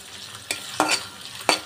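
A medium-sized onion frying in a pan after cumin seeds have spluttered: a steady close sizzle broken by three quick stirring scrapes of a spatula, with no talking.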